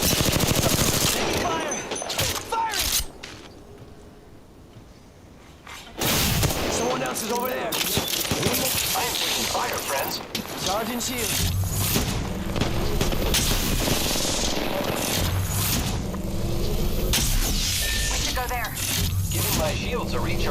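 Automatic weapon fire from an Apex Legends match, dense bursts of gunshots running almost continuously after a short quiet gap, mixed with game effects and a voice talking over the action.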